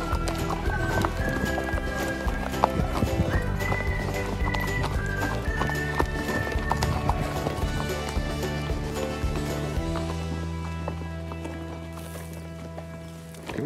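Horses walking along a forest trail in the Dandenong Ranges near Melbourne, hooves clip-clopping steadily and fairly close beneath a bed of music, with an occasional whinny.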